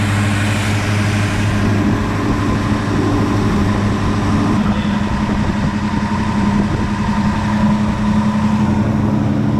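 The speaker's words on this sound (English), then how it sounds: "It sounds okay, but it does sound a little high when it's idling." A 1965 Ford Fairlane 500 engine idles a little high, a steady, close rumble with a constant low hum, continuous throughout with no talking.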